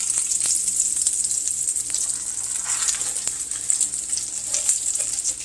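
Pork cutlets for schnitzel fry in a skillet with a steady, close hiss and crackle of sizzling fat that runs throughout, with a few sharper pops and spatters and no talking.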